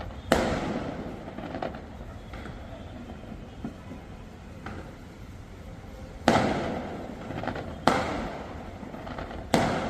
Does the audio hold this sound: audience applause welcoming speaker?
no